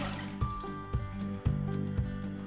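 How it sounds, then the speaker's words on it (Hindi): Water poured into a pot of yogurt paste for Kashmiri chicken yakhni, a liquid splashing and dribbling sound with small repeated drip-like pulses, moderately quiet, with no talk. "इसके साथ ही मैं 1 लीटर इसमें पानी शामिल करने लगी हूँ।"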